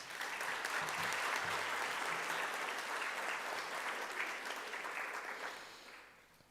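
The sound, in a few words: audience clapping at school prize-giving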